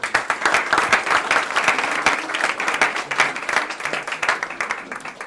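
A crowd at a Connecticut public gathering applauds to welcome the Lieutenant Governor, brisk, close clapping from many people that pulses slightly in strength while continuing unbroken.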